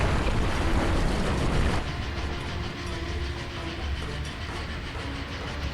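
A train runs in the Murder on the Orient Express video game, a loud rumbling roar that drops slightly in level partway through, then continues as a steady rolling clatter with faint rhythmic clicks.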